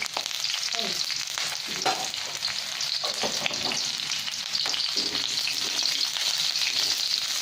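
Spices with ground candlenut and ground pepper sizzle and crackle steadily in a hot pan while being stirred for mie goreng, a continuous close frying hiss with occasional scraping.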